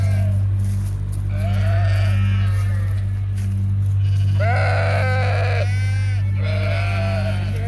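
Sheep and lambs bleat repeatedly on a farm during breeding-season sorting of ewes and rams, several calls overlapping at close range over a steady low hum.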